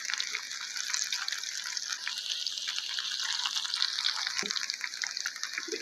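Kadhi pakoras sizzle steadily in hot oil as they are turned over, a dense bright crackle and hiss that stays even and close throughout, with an occasional soft clink of a spoon and no talking.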